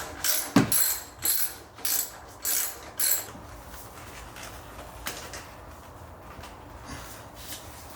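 A ratchet loosens the exhaust clamp on a Toyota Supra, five or six rhythmic clicking strokes up close, then sparse faint clicks and handling noise.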